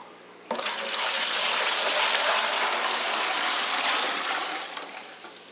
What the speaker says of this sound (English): so I'll just sort of drain this out